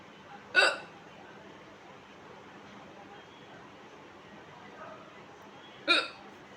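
Two sharp, short hiccups from a person, one near the start and one near the end, with quiet room tone and silence between them.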